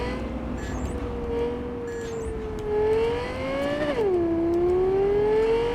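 Car engine in Cyberpunk 2077 hums steadily and loud, its pitch rising and dipping with a sharp drop near the end before climbing again as the car accelerates, with no talk over it.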